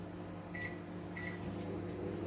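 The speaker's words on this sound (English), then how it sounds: "in the microwave you can cook too much" A microwave oven runs with a low, steady hum and faint whirring, quiet and close, with a couple of brief high tones over the drone and no talking.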